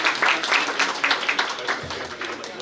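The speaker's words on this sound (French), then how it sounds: "Ça s'applaudit, ça s'applaudit." Applause at an Ivorian embassy fraternity gala, a moderate crowd clapping in uneven bursts, somewhat distant and soft, with a little voice underneath.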